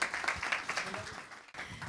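Audience applause at a Krishna bhajan program, a short burst of close clapping from a small crowd that breaks off briefly, then resumes.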